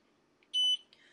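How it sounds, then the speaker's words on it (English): A single short electronic beep from an xTool F1 laser engraver confirming a design was received, clear and close, over a quiet background hum. "That beep means that the machine received the design."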